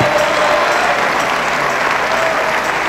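A church congregation at a John Osteen service breaks into loud, sustained hand clapping for the Lord, a dense, even wash of applause filling the room throughout.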